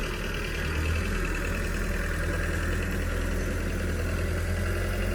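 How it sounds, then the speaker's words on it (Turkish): A tractor engine labors pulling through a tough, weedy field, a steady, loud chugging drone with rough knocking pulses throughout and no pauses. "Traktör şöyle kasılıyor."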